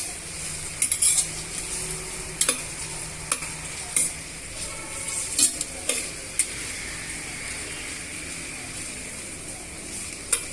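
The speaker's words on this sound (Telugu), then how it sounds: "ఫ్లేమ్ని మీడియంలో పెట్టుకొని ఇలా దోరగా వేయించుకోండి." Sliced onions and green chillies frying over medium flame in a pan, a constant sizzle broken by repeated sharp metallic spatula scrapes and taps, close and clear, no talk.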